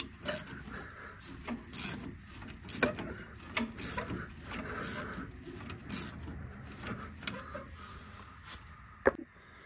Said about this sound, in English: you're gonna have to put a 19 millimeter wrench on the front to get this